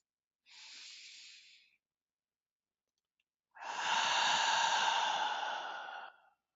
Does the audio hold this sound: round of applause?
no